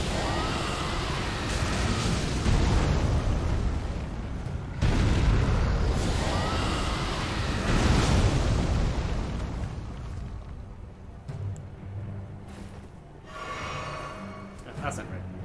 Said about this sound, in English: One thing I want to try here was kind of hit them both with dragon fire